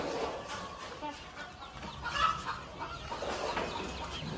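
A chicken clucks faintly on a goat farm amid a noisy, hissing background, soft intermittent clucks with a brief louder call in the middle.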